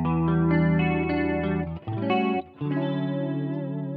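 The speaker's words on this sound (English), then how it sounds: "on this patch, I'm running through kind of an old Fender Twin type amplifier, the valve sound. It gives it a really warm, jazzy tone." Electric guitar played through a Boss GT-10 multi-effects unit on a Fender Twin-style valve amp model, warm jazzy chords ringing with chorus-like shimmer, sustained and close with two brief gaps between phrases.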